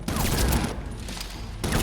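Rapid gunfire rattles in Batman: Arkham Origins, a dense, loud burst of overlapping shots that briefly eases and then picks up again.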